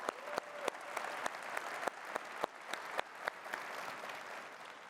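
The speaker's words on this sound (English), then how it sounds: "Please give yourself a round of applause." Scattered applause from a conference general session audience, faint and distant, with sharp individual claps standing out over a soft wash of clapping that holds steady.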